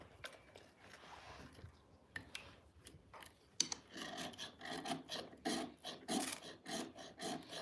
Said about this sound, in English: I'm gonna do some shavings first. That way they can catch fire first.